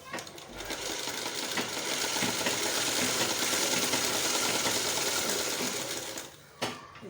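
A sewing machine runs steadily, stitching the side seam of a kurti in one continuous, fairly loud burst for about six seconds, then stops with a brief clack.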